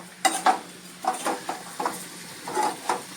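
Sweet potato slices being stirred and sautéed in a pan, with a few separate scraping and clinking spatula strokes over a faint sizzle, close and without talk.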